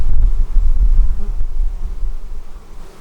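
Honeybees at an open hive mid-inspection during fall preparation, the colony running hot and agitated, give off a loud, dense, continuous low buzz that swells and dips steadily throughout, with no voices.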